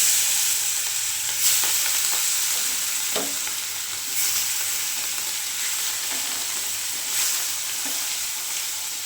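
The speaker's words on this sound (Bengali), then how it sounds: "কড়াতে একটু নুন দিয়ে মাছগুলো ভেজে নেবো।" Katla fish pieces frying in a salted wok, a continuous bright sizzle with occasional soft scrapes and taps from a spatula, close and steady, no talk.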